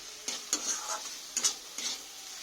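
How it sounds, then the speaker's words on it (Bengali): Large potato chunks being sautéed in a pan, with a gentle sizzle and several short scraping stirs of a spatula, close and fairly quiet with no talking. "আলুটা একটু সময় ধরে কষে নিচ্ছি যাতে তাড়াতাড়ি একটু সেদ্ধ হয়ে যায়"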